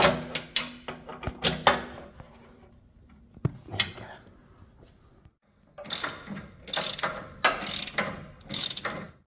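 A ratchet tightens the bolts on a HIGHLANDER 77 litre auxiliary diesel tank, giving close bursts of rapid clicking, a brief pause, then more quick ratcheting strokes.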